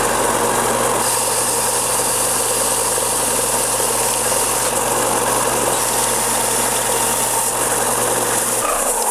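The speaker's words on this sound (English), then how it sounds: "I'm gonna be doing all the shaping on the sander" Sander shaping a wooden lipless crankbait lure, a steady loud motor drone with constant grinding hum throughout.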